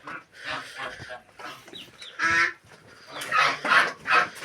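Farmyard turkeys and chickens call in short, loud bursts of gobbling and clucking close by, several overlapping cries with brief gaps between them.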